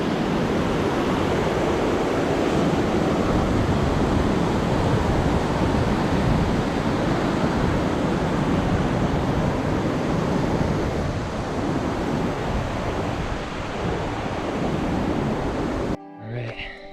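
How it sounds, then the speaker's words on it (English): Rushing water at the bottom of Upper White Water falls on the Foothills Trail in autumn, a dense, constant roar filling the whole clip, loud and close, cutting off abruptly just before the end. "going across Upper White Water at the bottom of the falls right now."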